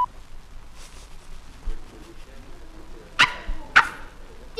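A dog sound effect for a filmstrip soundtrack: two sharp, loud barks in quick succession near the end, after a quieter stretch of low background noise.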